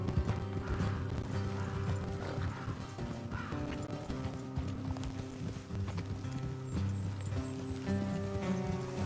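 Rhythmic hoofbeats of horses galloping continuously in the video game Red Dead Redemption 2, with a steady music-like backdrop and occasional snorts, fairly loud and close.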